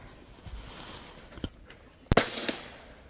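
An Umarex Gauntlet 2 .25 caliber air rifle fires a 30.86 grain H&M Barracuda pellet, a single sharp crack followed by a quick echoing report, with faint softer thumps before it in a quiet setting.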